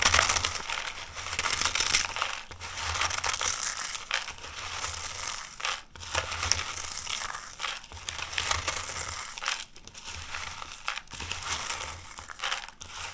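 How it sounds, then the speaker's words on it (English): Doritos chips are crushed by hand, a continuous crinkling crunch with bursts of crumbling that pause briefly now and then, close and fairly quiet. "You can either take the Dorito chips and put it in, and you can either crush it by hand"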